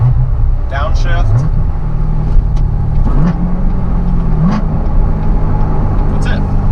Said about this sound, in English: You hear it slowing down, downshift.